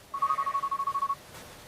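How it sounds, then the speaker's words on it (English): A phone rings with a rapid trill of about a dozen evenly spaced electronic pulses lasting roughly a second, clear and close, then stops abruptly. "Suddenly, my phone is ringing."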